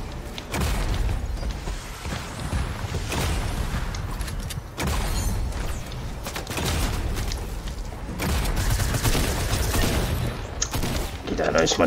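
Shotgun blasts and other gunfire in the video game Fortnite, several loud booming shots spread through the stretch over continuous game noise, with voices talking throughout.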